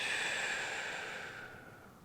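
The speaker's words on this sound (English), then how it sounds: "Full breath out." A long, steady exhale through the mouth during a beginner hip-opening yoga flow, a close, airy breath that slowly fades over about two seconds.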